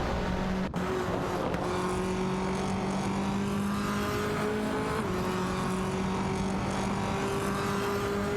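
Video game race cars, a Lada Vesta and a Honda Civic FA duelling closely, engines droning steadily with sustained tonal whine and shifting pitch, loud and continuous throughout.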